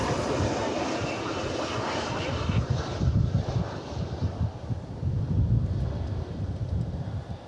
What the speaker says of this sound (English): Aeromexico Connect, an Embraer